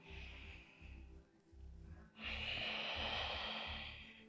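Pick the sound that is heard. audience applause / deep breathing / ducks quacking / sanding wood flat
deep breathing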